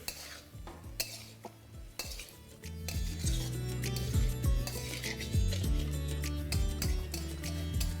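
Potatoes, tomatoes and spring onions are stir-fried in a pan for a dry yardlong bean curry. Sparse spatula scrapes and clinks come first, then a steadier soft sizzle sets in, punctuated by repeated metallic scraping and tapping, close but fairly quiet.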